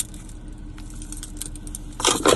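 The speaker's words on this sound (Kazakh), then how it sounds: "Бір кілт." Keys of a Hyundai jangle briefly in a hand, a bright metallic shake near the end over a low steady background hum.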